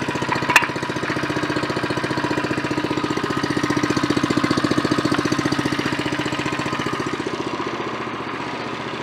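A Predator engine swapped into a Coleman go-kart idles steadily after the choke is taken off, a close, even, rapid chugging pulse that holds without revving, with no talking.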